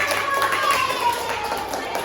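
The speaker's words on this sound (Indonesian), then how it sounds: "tepuk tangan untuk Mbak Ayu" Students in a classroom clap for a classmate named Ayu, a brisk, close round of hand claps, fairly loud and even, lasting about two seconds.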